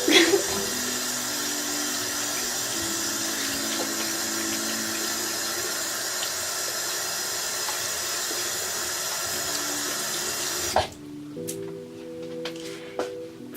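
Tap water runs steadily into a bathroom sink while skin is rinsed, a constant close rushing hiss that cuts off abruptly near the end, leaving faint drips and small handling sounds.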